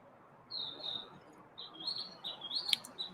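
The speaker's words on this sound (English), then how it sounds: "singing his or her little heart out as usual, driving all the other birdies crazy" A small bird chirps and sings in short bright bursts, a few sweet notes at first and then a livelier run of quick tweets, close and fairly clear over a quiet outdoor background.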